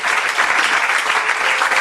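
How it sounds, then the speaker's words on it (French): Steady, dense applause from a church congregation acclaiming the Lord, a continuous wash of many hands clapping at full volume for the whole stretch, with no voices standing out. "Acclamons pour le Seigneur Jésus-Christ."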